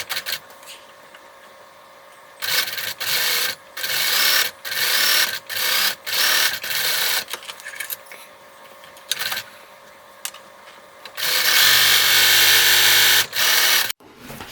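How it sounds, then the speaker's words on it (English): A sewing machine sews the seams of a curved zipper pouch in repeated bursts of fast, loud mechanical whirring with short pauses between them, ending in a longer continuous run. "Sew all these seams with a 3/8 inch seam allowance, and make sure you backstitch when you start and when you stop."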